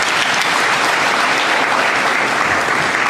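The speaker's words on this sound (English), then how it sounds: "Let's give him another round of applause" An audience at a commemoration gives speaker Frank a sustained round of applause, dense steady clapping filling the room at full volume from start to finish.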